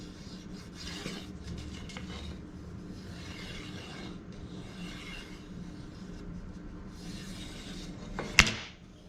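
Steady raspy sanding strokes on the edges of wooden pizza peel panels, a continuous rubbing scrape with brief louder bursts, close by, ending with a sharp knock.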